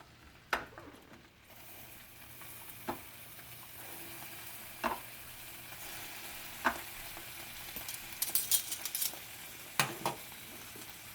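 Sausages frying in a stainless steel pan give a soft, steady sizzle, broken by several faint clicks and scrapes of stirring and handling, with no one talking.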